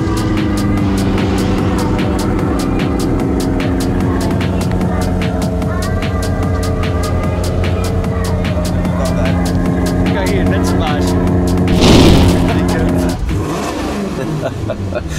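Maserati Quattroporte engine and exhaust running loud and steady at close range, with a sharp rev burst near the end; someone talks over it.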